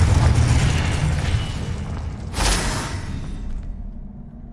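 A Confringo blasting spell from Hogwarts Legacy detonates in a boomy burst over low rumbling, followed by a brief sharp crackle and a fading tail, close and fairly loud.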